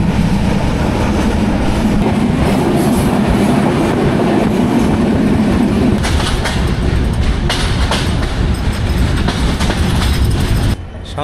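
The Ekota Express to Dhaka runs at over 80 km/h with a loud, continuous roar and rhythmic clatter of wheels on track, heard from inside the train, the texture shifting to sharper rattling bursts partway through.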